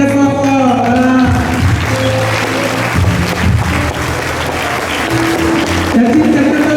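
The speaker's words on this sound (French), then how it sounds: "On applaudit très fort." Audience at a Holy Spirit church conference applauding loudly, a dense sustained clapping from a large crowd with music tones and cheering mixed in throughout.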